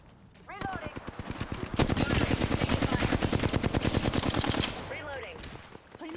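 Rapid automatic gunfire in a shooter video game pours out in one sustained, loud burst of evenly spaced shots lasting several seconds, with brief softer mechanical sounds before and after.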